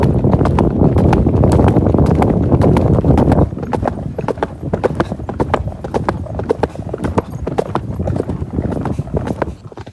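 Horses canter in single file, their rapid rhythmic hoofbeats pounding close and loud on the ground, with wind buffeting the microphone early on.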